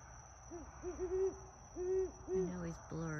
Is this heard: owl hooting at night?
yes